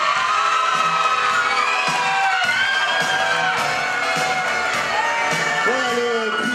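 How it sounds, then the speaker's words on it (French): Festival awards audience cheers and whoops over upbeat music playing loudly, a lively mix of crowd voices and music that stays full and continuous throughout. "En musique, vous pouvez encore une fois les applaudir."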